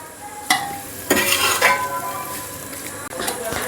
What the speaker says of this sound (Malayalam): വഴറ്റി വെച്ചിരിക്കുന്ന ഇത് സവോള എല്ലാം കൂടെ നമുക്ക് കുക്കറിലേക്ക് ഇട്ട് കൊടുക്കാം